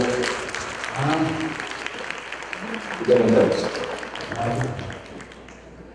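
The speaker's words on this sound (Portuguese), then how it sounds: "É com muita honra que recebemos, sob os nossos aplausos, o Dr. Vitor Sorrentino" An audience at a hospital obesity symposium claps to welcome a doctor to the stage, a steady ripple of applause that swells midway, while voices speak over the clapping.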